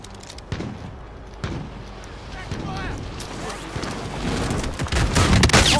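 Video game gunfire crackles in scattered bursts and sharp single shots amid rumbling background noise, growing denser toward the end, with a voice talking over it.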